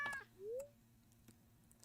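A cat meows once in the Stardew Valley video game, a short rising cry set apart from the quiet ambient game sounds.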